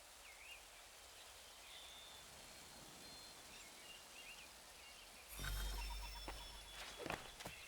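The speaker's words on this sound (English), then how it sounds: "Oh, it's raining." Rain falls in Assassin's Creed 3 as a steady, even hiss with faint bird chirps, then a louder burst of rushing noise and sharp knocks arrives near the end.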